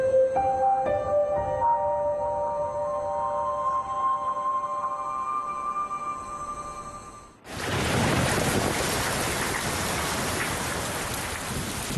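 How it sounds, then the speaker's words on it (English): Rain arrives abruptly in the mountains of southern Yunnan: a tonal, ringing ambience cuts off and a loud, dense, steady downpour takes over and continues without a break. "But then rain suddenly comes."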